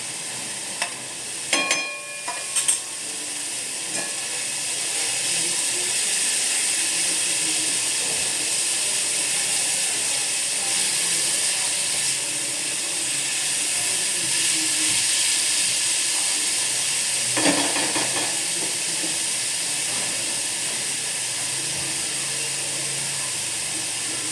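Onion, capsicum and carrot sautéing in a pan for veg paneer gotaro, a steady close sizzle that runs throughout, with a few clinks and stirring scrapes near the start and one more partway through.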